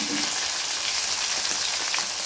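Tomato sizzles in a hot pan with black cumin and chilli while a mustard pabda fish dish is cooked, giving a steady, close, dense frying hiss that continues unbroken.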